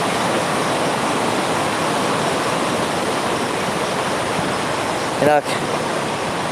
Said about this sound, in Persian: صدای آبی ورزاب